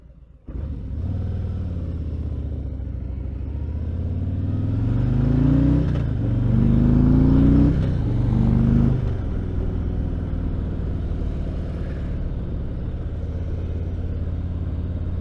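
Motorcycles pull away from a stop on a ride to a hardware store, engines roaring loud and close as their pitch climbs and drops through several gear changes before settling into a steady drone.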